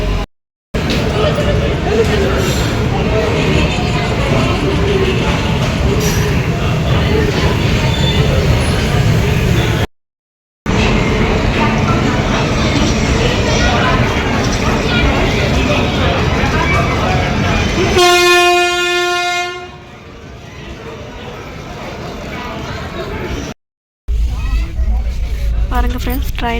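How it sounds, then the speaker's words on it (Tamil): A passenger train pulls into and leaves a station on the route from Bhubaneswar to Chennai Egmore, its rumble loud and steady with a run of rising horn-like tones near the end, and voices carry on throughout. "ட்ரெயின் வந்து கிளம்பிக்கிட்டு இருக்கு"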